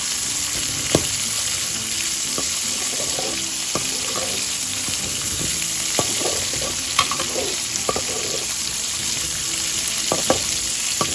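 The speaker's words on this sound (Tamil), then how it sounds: "இது நல்லா வதங்கின பிறகு ஒரு குடமிளகாவை கட் பண்ணி இதில் நல்லா சேர்த்து வதக்கிக்கோங்க" Capsicum, onions and green chillies sautéing in a pan for a capsicum tomato chutney, with a steady close sizzle and intermittent stirring clicks and scrapes throughout, no talking.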